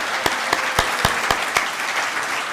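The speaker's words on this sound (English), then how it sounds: "Let's give them one more round of applause" Church congregation applauding new members during a Sunday service, a steady wash of many hands clapping with strong regular beats roughly every quarter second, sustained and moderately loud.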